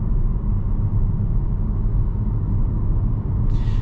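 A 2025 Kia Soul EX Soulmate Edition cruising a back road at about 45 mph, heard from inside as a steady, loud low rumble of road and engine noise with no pauses and no talking.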